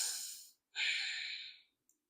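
Ujjayi breathing through the nose during a beginner yoga flow: two close, airy breaths, a shorter one that fades out, then a longer, strong hissing breath, followed by a tiny sniff.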